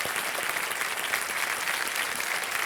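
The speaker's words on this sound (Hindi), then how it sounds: "एक बार जोरदार तालियां बज जाए इनके लिए।" Studio audience applause on the KBC quiz show, dense even clapping sustained throughout at a steady level with no talk.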